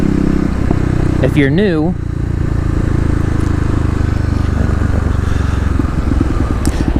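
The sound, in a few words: 2018 Kawasaki KLX250 motorcycle engine accelerating in first gear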